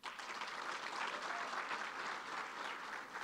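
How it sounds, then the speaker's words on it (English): An audience at a school graduation ceremony claps steadily and fairly softly for its teachers, a dense even patter that holds for the whole stretch. "please clap for them."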